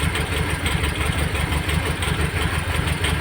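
A Mitsubishi Galant GTI's 4G63 engine idles while warming up after a hard-starting problem was fixed, producing a close, loud, steady idle with an even pulsing rhythm.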